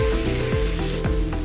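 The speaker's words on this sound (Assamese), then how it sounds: "তাৰপিছত গুড়ি কৰি থোৱা পিঁয়াজখিনি মই দি দিছোঁ" Ground onion paste hits hot oil in a kadai for a jackfruit curry, a dense, close sizzle that holds steady throughout, with a tonal sound with repeated falling glides running underneath.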